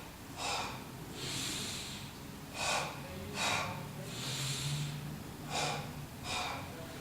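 Sharp breaths out through the nose and mouth during an intermediate Pilates rotation exercise, a series of about seven close, hissing exhales in pairs and singles over a faint low background hum.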